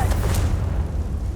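A Confringo explosive spell blast in Hogwarts Legacy, a continuous heavy low rumble that fills the moment, loud and close, with a few faint crackles on top and no clear separate strike.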